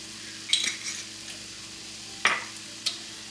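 Food being stirred in a sizzling pan, with a spoon scraping and clinking in a few distinct strokes over a steady frying hiss, close up and with no talking.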